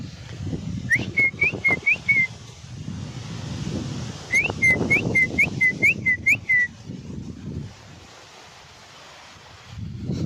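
A person whistles to call birds in two bursts of quick, repeated chirpy notes, first a short run, then a longer one, over gusting wind noise.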